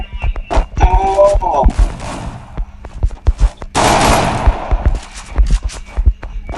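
Bursts of rapid gunfire from a shooting video game, with dense automatic volleys and single sharp shots in quick succession, loud and close, with excited talk running underneath.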